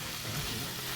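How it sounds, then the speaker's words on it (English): Extra lean ground beef browning in a pan gives a steady, low sizzle and frying hiss, alone and at an even level for about a second. "I'm browning some ground beef. This is extra lean ground beef."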